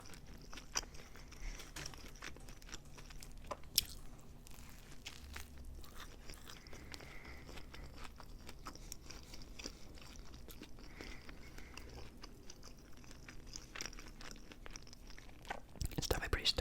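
Quiet close-up bites and chewing of a Panera sandwich stacked with bacon and avocado, soft crunchy and moist mouth sounds recurring through the stretch, with faint whispered talk and a louder rustle at the end.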